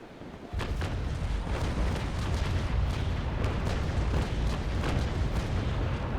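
Ship cannons fire a broadside in the naval combat game Naval Action during a PvP duel with a Belle Poule frigate, producing a sustained rumbling barrage of overlapping booms that kicks in after half a second and keeps going at steady loudness.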